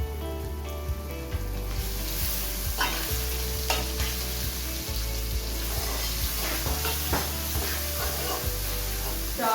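Onions, garlic and ginger frying with garam masala in a pan for chana dal with pumpkin, sizzling steadily throughout with repeated scraping stirs of a spoon against the pan.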